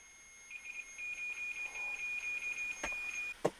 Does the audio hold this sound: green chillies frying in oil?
no